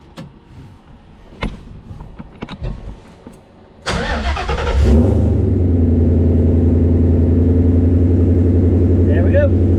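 A few scattered clicks and rattles, then a car engine cranks and catches, settling into a steady, loud idle that runs to the end.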